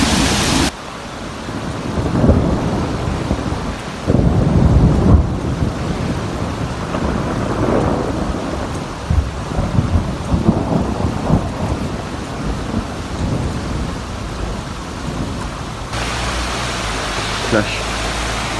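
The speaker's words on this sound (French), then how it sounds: "Mais qu'est-ce que c'est que cet orage?" A heavy thunderstorm over Amiens, with loud rumbling thunder rolling in bursts over a constant roar of pouring rain, close and dense throughout, and no one talking.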